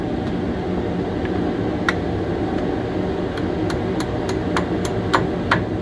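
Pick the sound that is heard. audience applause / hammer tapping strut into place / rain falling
hammer tapping strut into place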